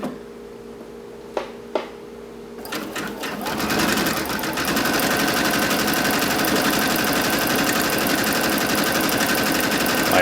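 A Brother Dream Machine sewing machine gathers elastic using its dual top feed, starting with a few clicks, then running up into a fast, steady, close mechanical rattle that continues to the end while a voice speaks briefly.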